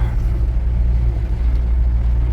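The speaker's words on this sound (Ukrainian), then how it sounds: "Їду тепер в сторону Придніпровська." A car drives along a road, giving a steady, loud, low rumble of engine and tyres heard from inside the vehicle, continuous and with no talking.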